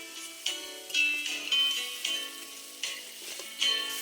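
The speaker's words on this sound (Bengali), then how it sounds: "অল্প জল দিয়ে খুব ভালো করে কষিয়ে নেব মশলাটি।" Spice paste for a crab curry being sautéed with a little water, with bursts of sizzling and stirring strokes against the pan, close and moderately loud, under tonal background music.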